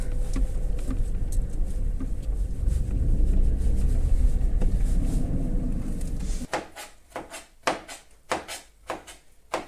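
A car that sat parked for about two weeks ringed by snow drives off with a loud, steady engine rumble for several seconds, then the noise cuts out and a series of sharp knocks and thumps follows.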